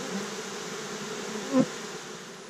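Honeybees buzz steadily around a rubbish bin as they are taken out of it, a constant droning hum with one brief louder pass near the end, close by and with no voices.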